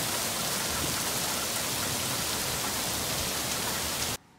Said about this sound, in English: It's a hailstorm here. There's heavy rain and ice.